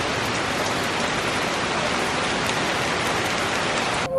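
Torrential rain roars steadily and loudly throughout, a thick unbroken wash of downpour with a brief disturbance at the very end.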